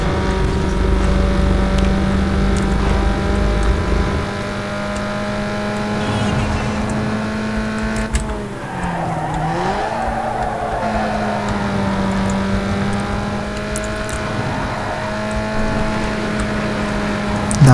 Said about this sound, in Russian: Давай, газуй, тачка.